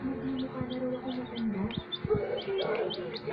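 Chicken chicks peep in short, high, repeated chirps at close range, scattered through the clip over a steady low background hum with a few soft thumps.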